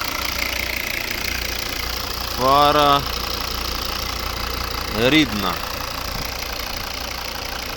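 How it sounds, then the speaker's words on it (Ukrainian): A 2011 Volvo V60 2.0 D4 diesel with automatic gearbox idles steadily with a low, even rumble, while someone speaks briefly over it twice. "Ось робота двигуна."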